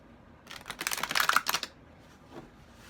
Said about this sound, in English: I shuffle until they tell me to stop